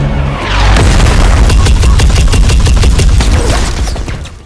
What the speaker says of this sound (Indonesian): mereka berhasil menembakkan sebuah RPG ke arah Bishop dan akhirnya RPG incoming